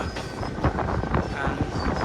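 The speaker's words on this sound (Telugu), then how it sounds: "ట్రైన్ అయితే మంచి స్పీడ్ అందుకుందనమాట" An express train runs at speed after crossing the Tungabhadra river, heard from inside an AC coach: a loud, steady rumble with rhythmic clickety-clack from the wheels on the rails.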